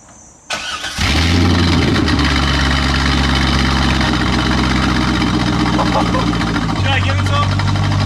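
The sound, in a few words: car engine starting with exhaust removed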